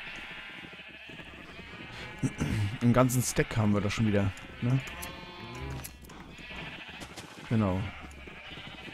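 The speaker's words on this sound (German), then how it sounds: "Von den paar Schafen." Sheep bleat repeatedly in the Minecraft video game while being sheared, several wavering calls clustered in the middle and one more near the end, mixed with someone talking.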